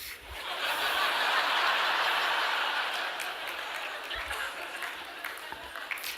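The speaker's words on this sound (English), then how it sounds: "Now, I got a few claps on that" A live audience claps and laughs together in a broad, steady wash of applause that swells over the first few seconds, then thins into scattered claps and chuckles.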